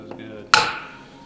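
A hammer strikes a valve on a blown TDI engine cylinder head once, giving a single sharp metallic smack that rings briefly after a faint lighter tap.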